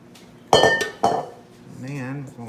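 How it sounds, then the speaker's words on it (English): Yeast roll dough lifted from a mixing bowl into an oiled bowl, with two loud clanking knocks of bowls and utensils, then a brief voice speaking softly. "I'll put this dough, take it out and put it in this bowl, out of my mixing bowl into this bowl."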